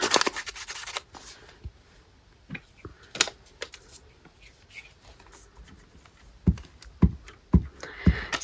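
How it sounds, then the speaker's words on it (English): Scissors trimming a manila file folder, with a handful of crisp snips close by, spaced irregularly and growing more frequent toward the end against quiet paper rustling. "I'll trim it at the top to the right size"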